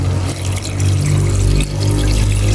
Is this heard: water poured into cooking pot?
yes